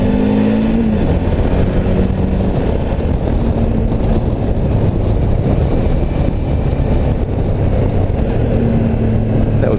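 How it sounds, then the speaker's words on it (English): A motorcycle rides along with heavy wind rush over the microphone, its engine droning and dipping in pitch as it downshifts, with short rises in revs like throttle blips, loud and continuous with no talking. "I'm getting better at the downshifts on this bike"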